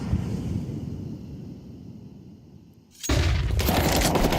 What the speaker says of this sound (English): Now that is a flashbang.